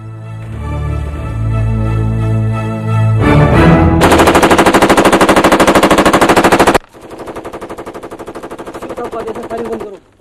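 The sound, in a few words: machine gun fire in battle scene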